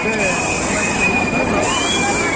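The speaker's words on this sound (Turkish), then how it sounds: "Elsa bir trene daha biniyor" A small amusement park kiddie train rolls along with a steady rumble and a high metallic squeal running through it, amid a background of crowd chatter.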